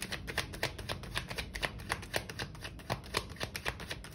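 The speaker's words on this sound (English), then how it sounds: "I don't know why I'm struggling to shuffle my card." Tarot cards being shuffled by hand, a quiet run of rapid papery riffles and soft slaps in an uneven rhythm, close up with no talking.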